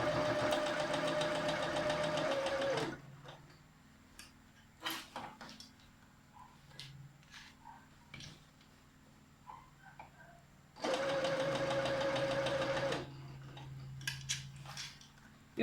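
A domestic sewing machine runs a construction seam with a backstitch on an asymmetric smock, whirring steadily in two bursts of about three and two seconds, with quiet handling clicks and rustles of fabric between them.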